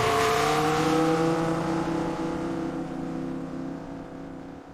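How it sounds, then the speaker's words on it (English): Race car with a company logo speeding away in an AI-generated marketing clip, engine whining loud and close at first with rising harmonic tones, then gradually fading as it pulls off into the distance. "I now have a race car with my company logo on it speeding away."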